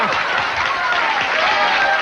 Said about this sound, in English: You know, people applauding that there.